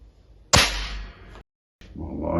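A single Air Arms EV2 air rifle shot, a sharp close crack with a brief ringing tail, followed by a short silence and then soft handling noise.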